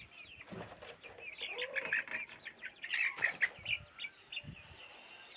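Naked neck spotted chickens clucking in a coop: faint, close, chattering clucks and chirps repeat irregularly, with light rustling and flapping at low volume.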